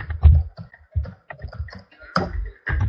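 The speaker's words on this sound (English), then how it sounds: "So I will type you the question here" Someone types a question on a computer keyboard, a close run of irregular clicking keystrokes with short pauses between bursts.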